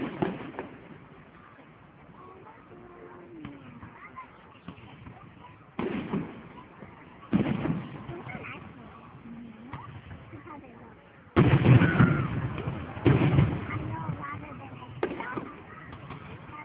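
A school fireworks display at George Mason High School booms and crackles in spaced bursts, the loudest thuds near the end, heard from a distance with people talking between explosions.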